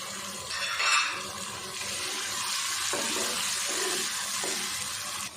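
Ginger garlic paste fries in a pan for a pulao of potatoes and peas, giving a steady hissing sizzle that runs the whole time, with a brief louder burst near the start.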